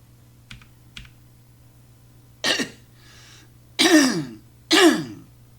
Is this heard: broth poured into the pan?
no